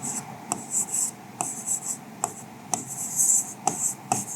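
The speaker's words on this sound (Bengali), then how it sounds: "এখানে লিখি" A pen writes on paper while a physics tension problem is worked out, making close, quick scratching strokes in short bursts with brief pauses and taps between them.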